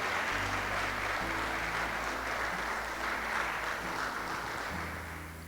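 A church congregation applauds continuously, a dense wash of many hands clapping that stays even and moderately distant, with a low sustained tone underneath and a slight fade at the end.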